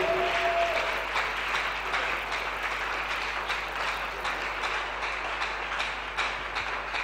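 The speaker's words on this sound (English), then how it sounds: "Clap your hand for Jesus Christ." A church congregation claps for Jesus Christ at a worship service, a steady wash of many hands sustained throughout with a faint low hum underneath.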